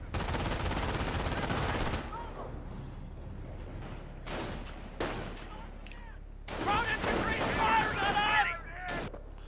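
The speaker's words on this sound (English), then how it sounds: "the sniper opens up with his first kill" Gunfire in the World War II strategy game Company of Heroes: a sniper's shots and bursts of rifle and machine-gun fire, crackling and booming at irregular intervals under steady commentary.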